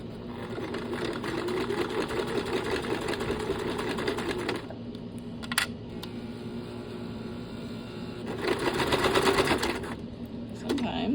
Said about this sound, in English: go ahead and top stitch that down